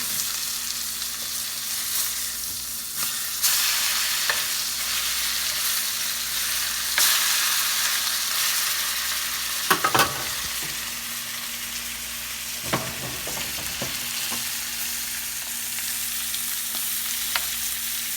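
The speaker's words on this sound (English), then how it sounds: "We just flip them over, and now we're going to baste the other side." Filet mignon steaks sizzle steadily in a hot pan as they are basted, a continuous bright hiss broken by a couple of louder spoon scrapes and clatters partway through.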